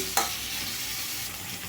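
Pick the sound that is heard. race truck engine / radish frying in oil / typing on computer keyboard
radish frying in oil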